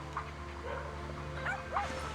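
A puppy in Zenless Zone Zero gives a few short, faint yips and whimpers over a low steady game background hum.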